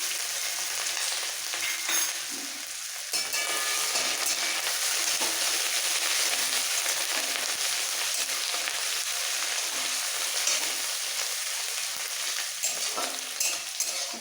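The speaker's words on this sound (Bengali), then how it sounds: "এই তেলের মধ্যে হালকা ভেজে" Grated garlic and chopped ginger fry in hot oil with a steady, dense sizzle that holds throughout, close and fairly loud, with faint stirring.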